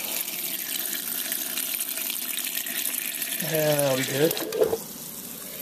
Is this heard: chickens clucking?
no